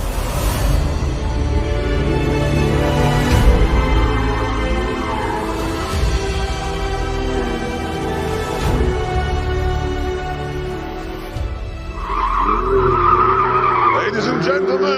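A car skids through a track corner with loud, sustained tire squeal and a revving engine, ending in a sharp higher-pitched screech, while people talk over it.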